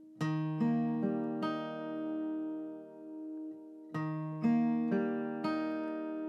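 Slow fingerpicked acoustic guitar playing the intro of a song, clear plucked notes in two matching phrases separated by a brief pause as the notes ring out, close and alone.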